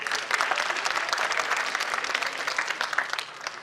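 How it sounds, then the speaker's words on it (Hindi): An audience at a school annual function claps steadily for several seconds, a crowd's applause heard fairly close and unbroken, with no one speaking. "उनके लिए भी ताली बजा दो।"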